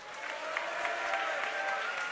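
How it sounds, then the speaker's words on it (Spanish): An esports audience at a Final Cup 5 group match between MyRevenge and 34United claps for a team, a steady wash of applause lasting a couple of seconds with no speech. "Vamos a ver cómo van esos aplausos"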